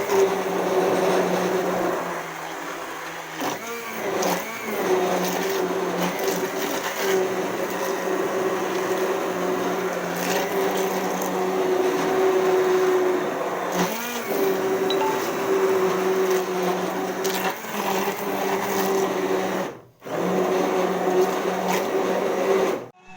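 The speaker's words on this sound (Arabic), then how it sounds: "هضربها بالهاند بلندر، او لو عندك خلاط تقدري تعملي كده." A hand blender purees cooked, peeled tomatoes with beetroot in a home kitchen, giving a loud, steady motor whir that holds for about twenty seconds, with a brief cut-out near the end.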